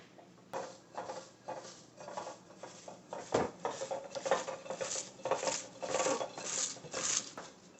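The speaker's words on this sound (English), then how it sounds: "it's time for a cabbage massage?" Hands squeezing and rubbing shredded cabbage in a bowl for sauerkraut, rhythmic wet crunching and scrunching strokes repeating every half second or so, close up.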